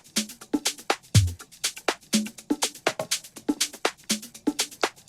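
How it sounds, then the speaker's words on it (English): A programmed drum groove with a percussion loop plays from music production software, steady kick and snare hits with busy hi-hat ticks in a quick repeating pattern, fairly loud and alone. "the drum groove now sounds like this"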